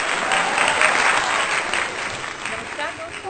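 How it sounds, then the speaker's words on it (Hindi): Dense audience applause for a poet at a Hindi poetry gathering, steady and full throughout with a slight easing toward the end. "जोरदार तालियां दीपाली जैन जी के लिए।"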